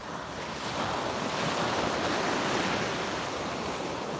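Heavy ocean surf pounds a coarse-sand beach at sunrise, a continuous loud roar of breaking waves mixed with wind buffeting the microphone, with no voices.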